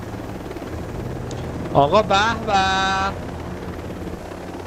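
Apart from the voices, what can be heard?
helicopter flying in a video game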